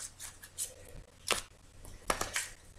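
Cards drawn from a deck, a few crisp papery slides and snaps spaced out across a quiet room, close by.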